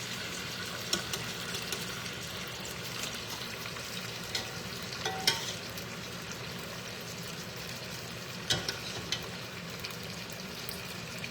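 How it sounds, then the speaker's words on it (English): Pasta for pasta alla gricia goes into a hot pan and sizzles softly and steadily, with a few faint clinks and stirring bumps in a home kitchen, and no one speaking. "here comes the pasta is going right in the pan"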